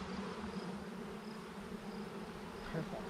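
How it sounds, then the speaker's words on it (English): Honey bees buzz steadily inside a hive, a dense, faint hum of many insects that continues throughout without pause. "See all that? Those are all going to be new bees."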